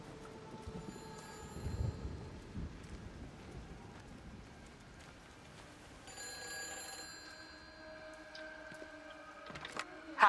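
A telephone rings in the video game Everybody's Gone to the Rapture, its repeated ringing tones emerging fairly faintly partway through over a soft, rain-like ambient wash.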